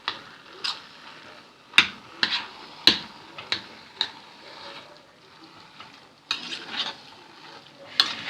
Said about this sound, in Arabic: ابتدي دلوقتي زي ما قلت لكم هقلبها كويس قوي عشان خاطر ما تمسكش في بعض